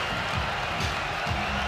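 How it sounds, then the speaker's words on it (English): Crowd at a Cage Warriors fight in Liverpool cheering and roaring after a knockout, a dense, steady wall of noise with no gaps. "This crowd is going absolutely crazy."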